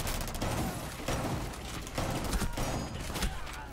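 Rapid bursts of gunfire in the Rainbow Six Siege video game, dense cracking shots in several clustered volleys, loud and continuous throughout.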